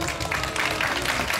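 Crowd at a Bastille Day fête in Anor applauds loudly, dense, steady clapping filling the short stretch with no one speaking over it.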